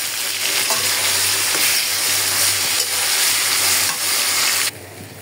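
Cooked taro leaves go into hot mustard oil with panch phoron, cumin and nigella seeds and are stirred, giving a loud, dense sizzle with scraping strokes that stops abruptly near the end.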